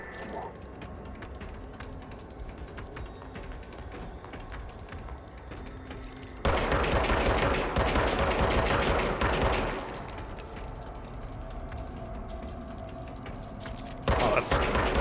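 Sustained automatic gunfire from a service weapon in the video game Control, a loud dense rattle that starts midway and continues for several seconds, with busy mechanical clatter before it.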